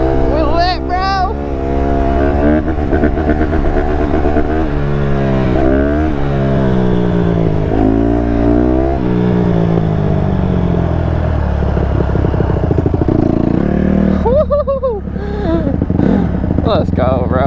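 A straight-piped Honda CRF150RB dirt bike engine revs loudly and raspily in repeated rising and falling sweeps, close up and sustained, with a brief sharper rev burst near the end.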